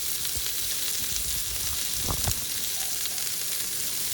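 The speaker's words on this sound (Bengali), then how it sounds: "পেঁয়াজ দিয়ে কিছুক্ষণ ভেজে মাংসটা যখন পুরোপুরি হয়ে যাবে" Chicken pieces and onions frying in a pan for chicken chap, a constant loud hiss of sizzling oil with a brief stirring clatter midway, no talking.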